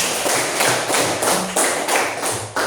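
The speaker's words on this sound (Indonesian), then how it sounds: "Tepuk tangan untuk mereka" A classroom group claps together in a steady, rhythmic beat for a team of students, each clap a sharp, close, loud burst repeating evenly for about three seconds with no talking over it.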